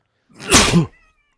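A single sharp sneeze bursts out close to the microphone, loud and brief, followed by silence.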